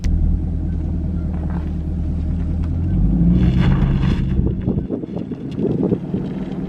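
Chevrolet Camaro SS fitted with a new MBRP exhaust cruising with the windows down, a steady low engine rumble under wind noise, swelling briefly as it accelerates midway.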